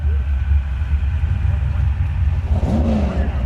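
A Ford-powered altered drag racing car rumbles loudly with steady low engine drone, rising into a rev near the end, heard at a strip during a spring bracket race.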